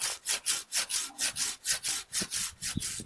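Samurai GKC-300-LH Japanese garden handsaw cutting through hard wood, a close, loud rhythmic rasp of about a dozen even push-pull strokes with no talking.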